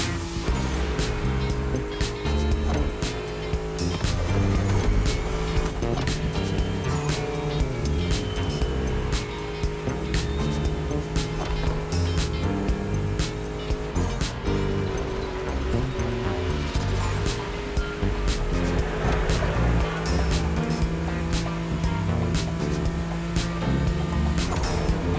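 A BMW M4 drives in The Crew Motorfest, its engine a steady, sustained drone that rises and falls with throttle over about twenty-five seconds, with a persistent background and no talking.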